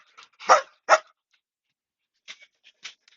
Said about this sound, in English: as you can tell, my puppies are enjoying fighting.